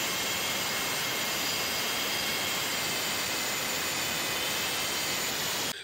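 An HPI Trophy Truggy RC car with an upgraded 4.6cc nitro engine runs at high revs, a loud, unbroken, hissing whine that holds steady for several seconds before cutting off abruptly at the end.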